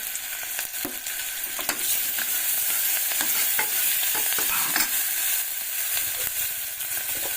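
Asafoetida with ginger-garlic sizzles steadily in hot oil in a pan, a dense, close frying hiss with crackling pops and occasional stirring scrapes.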